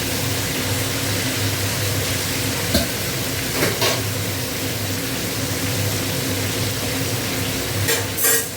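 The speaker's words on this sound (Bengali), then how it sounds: "তেল গরম হয়ে গেছে, এবার মাছের মাথাটা দিয়ে ভেজে নেবো" A fish head frying in hot oil in a kadai, giving a steady, close sizzle with faint crackles and a few soft clinks from the pan, with no talk.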